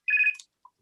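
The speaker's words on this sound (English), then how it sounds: "My phone will start ringing and I can't find it." A mobile phone ringtone chirps loudly for under half a second, a bright repeating electronic tone with a short fading tail and a faint blip after, heard alone in an otherwise quiet room during a council committee meeting.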